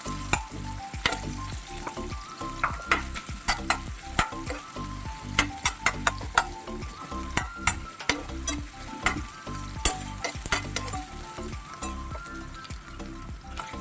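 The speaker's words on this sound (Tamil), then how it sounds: "இப்போ பூண்டு வந்து கருகக்கூடாது நமக்கு, அதனால் லைட்டாக வெங்காயம் சேர்த்துக்கிறேன்" Garlic and long-sliced onion sauté in a hot pan for chicken noodles, a steady close sizzle broken by frequent sharp clicks and scrapes of stirring throughout, with no talking.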